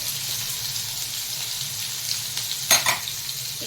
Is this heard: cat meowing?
no